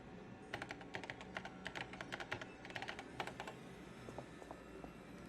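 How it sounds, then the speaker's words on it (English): Quick keyboard typing in Paper Mario: The Thousand-Year Door, a close run of crisp clicking keystrokes in bursts over a faint musical background, trailing off near the end. "Use the keyboard in front of you, enter the recipient address, and send."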